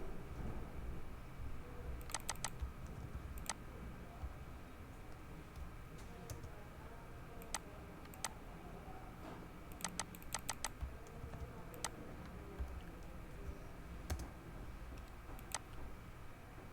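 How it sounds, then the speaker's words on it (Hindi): Typing on a computer keyboard, quiet and fairly distant, with irregular bursts of light key clicks over a low background hum and no talk. "आप लोगों ने टाइप करना होता है।"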